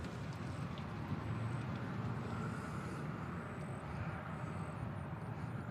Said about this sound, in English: Southwest Flight 575 landed from Denver